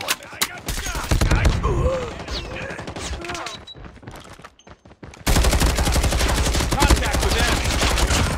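Gunfire in the video game Call of Duty comes as loud, rapid automatic bursts, a dense rattling stream that stops briefly near the middle and then resumes at full intensity.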